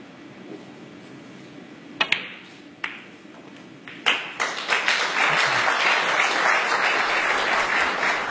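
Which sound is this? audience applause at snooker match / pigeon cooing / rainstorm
audience applause at snooker match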